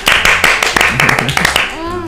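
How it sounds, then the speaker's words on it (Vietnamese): Family members clap their hands at home in a quick burst of claps, near and loud, mixed with voices talking and cheering, before the clapping tapers off. "cả nhà vỗ tay cho Su nào"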